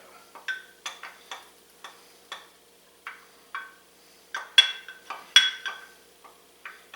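White clam sauce simmering in a pan while being stirred, with a string of sharp, irregular clicks and spoon scrapes against the pan over near-silence, close and moderately loud.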